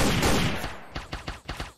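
Sharp video game gunshots ring out in a quick burst, then four distinct shots follow at a steady rhythm, each with a short echoing tail.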